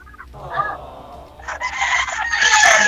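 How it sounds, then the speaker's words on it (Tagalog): Many chickens cluck and squawk together close by, the noise building into a dense, busy racket of overlapping fowl calls. "Daming manok."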